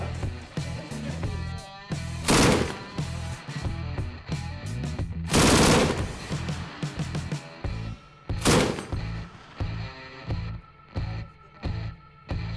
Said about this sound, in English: The usual burst is 4 to 6 shots, and the used shell case is ejected forward.